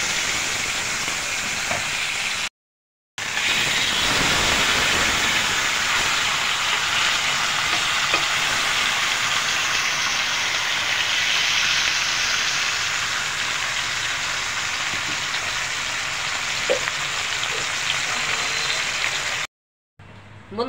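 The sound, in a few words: fish frying in oil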